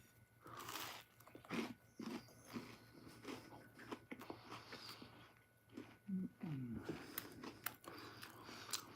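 Crunchy cookie, slightly singed, being bitten and chewed close up, with a series of irregular crisp crunches and mouth sounds spread across the stretch, no talking.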